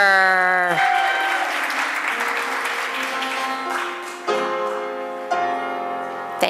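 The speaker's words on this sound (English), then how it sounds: "Another round of applause for our fabulous graduates" An audience applauds the graduates at an eighth-grade graduation ceremony with a sustained round of clapping that rises briefly, while a voice speaks at the start and again near the end.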